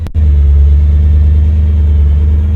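A 1942 Willys gasser's big engine rumbles loud and close under acceleration, a deep, steady low growl that holds for a couple of seconds after a brief opening click.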